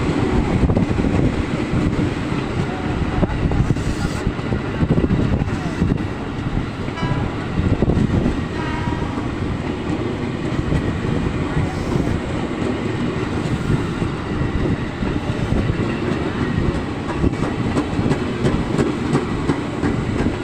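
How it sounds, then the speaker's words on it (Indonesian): A KRL commuter train passes through Jatinegara station, its loud continuous rumble and rhythmic clatter of wheels over rail joints filling the whole stretch, close and steady with no speech. "Dari arah sana kereta api KRL tujuan Kampung Bandan"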